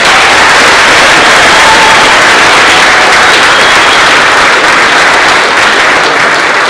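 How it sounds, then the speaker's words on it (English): Sustained, loud applause from an audience at a middle school orchestra concert, a dense steady wash of many hands clapping that continues without a break. "Can we give them another round of applause?"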